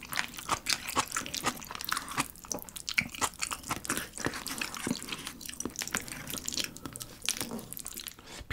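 Pizza being bitten and chewed close to the microphone, repeated soft crunches and wet chewing sounds in an irregular rhythm, fairly quiet with no talking.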